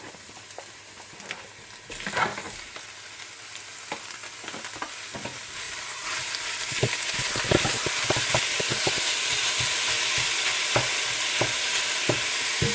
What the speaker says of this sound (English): I'm going to now add my minced beef